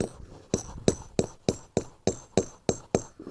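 A hammer drives a metal tap into a maple tree outdoors beside a brook, landing about ten sharp, evenly spaced ringing blows, close and loud with nothing else over them.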